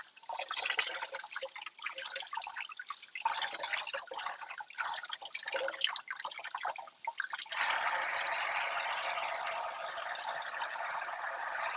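Water splashes and trickles steadily as dyed fabric is rinsed out to remove soda ash, starting as irregular splashing and dripping, then turning into a continuous, fairly loud rush of running water with no talk.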